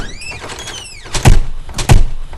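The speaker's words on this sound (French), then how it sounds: "La porte se ferme tout seul." A door swings and shuts on its own, beginning with a creaking, whining hinge sweep and followed by two heavy thuds as it bangs closed, loud and near.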